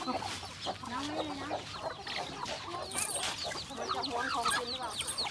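Chickens clucking continuously while they eat and jostle over food, several birds close by with busy overlapping calls and occasional sharper squawks, no speech over them.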